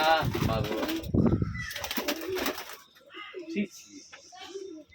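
Pigeons kept in an enclosed room at a home loft, with people talking over the first half and soft cooing and rustling continuing more quietly afterward.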